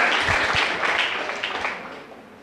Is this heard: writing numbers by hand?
no